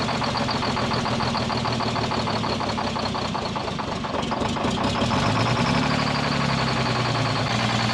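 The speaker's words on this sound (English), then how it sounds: "I had to keep hitting the throttle to keep it going." Engine of a White Road Xpeditor truck parked since 1996, running rough and unable to idle on its own, a loud continuous rumbling drone with a knocking beat that steps up in pitch near the end, no talk.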